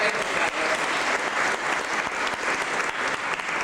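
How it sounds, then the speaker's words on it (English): Loud, close applause for Tyler from the crowd at the 1999 Valentino memorial service, continuous vigorous clapping with slight surges in intensity. "Let's give Tyler a wonderful round of applause"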